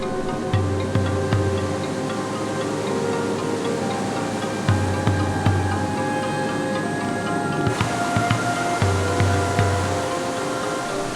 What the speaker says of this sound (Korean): 열대우림 속의 숨은 절벽에서 강물이 수십 갈래로 쏟아집니다